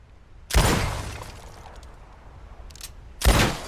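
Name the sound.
gunshots in video game Red Dead Redemption 2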